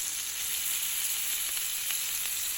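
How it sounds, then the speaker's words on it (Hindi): Bite-size malai kebabs frying in a pan, a soft steady sizzle with light crackles running continuously and no voices. "लेकिन अभी मैं आपको सिर्फ फ्राई करके दिखाऊंगी"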